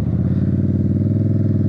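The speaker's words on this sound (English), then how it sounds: "I'm learning how to do rev match engine braking" A motorcycle engine runs steadily close by during rev-matched engine braking, a loud throbbing drone with rapid regular firing pulses and some clatter, no voices.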